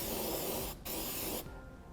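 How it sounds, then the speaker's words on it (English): Spray paint hisses from an aerosol can onto drilled bare metal on a 2013 Cadillac SRX bumper and frame rail, two steady bursts with a short break between, close and alone. "Just spray it so there's no more bare metal exposed, so it won't rust."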